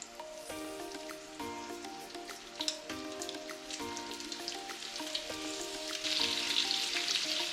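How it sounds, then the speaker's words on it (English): Blackened kingfish steaks sear in a very hot pan, giving a steady, close sizzle and crackle with scattered sharp pops that build louder toward the end, with no voices. "we're going to do a little pan searing of our blackened kingfish"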